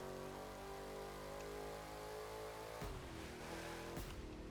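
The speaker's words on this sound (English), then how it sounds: "Listen to that backfire." A car engine in The Crew racing game revs steadily and loudly, then gives two sharp, close backfire pops near the end.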